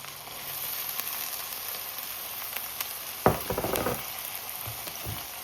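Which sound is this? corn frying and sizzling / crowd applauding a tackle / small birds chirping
corn frying and sizzling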